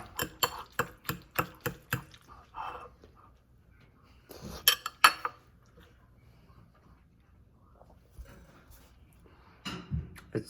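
Chili sauce being mixed into baked mac and cheese with a utensil, a quick run of scraping clinks against the dish followed by a second burst of stirring, moderately close with quiet gaps in between.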